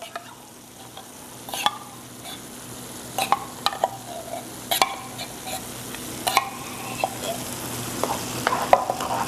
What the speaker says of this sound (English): now we'll go ahead and mix in our cream of mushroom soup